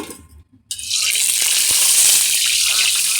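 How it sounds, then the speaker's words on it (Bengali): Shrimp frying hard in a pan for Bengali lao chingri, a loud steady sizzle that starts abruptly after a brief quiet moment and then holds close and continuous. "চিংড়িটা আমি একটু ভেজে রেখেছিলাম আগে, হালকা একটু ভেজে রেখেছিলাম। এবারে আর একটু ভালো করে আমি ভেজে নেব।"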